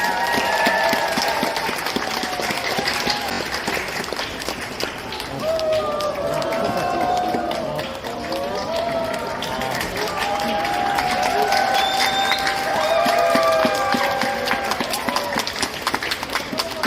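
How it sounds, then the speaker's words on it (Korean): A large audience at a bookstore event claps and cheers continuously to welcome novelist Bernard Werber, a dense, loud wash of applause with voices mixed in. "큰 박수 부탁드리겠습니다."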